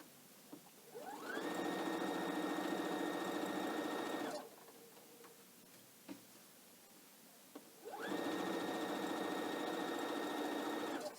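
A sewing machine stitches a pillow case seam in two steady runs, loud and close, each starting with a rising whir and holding an even buzzing drone, separated by a few seconds of quiet with small clicks.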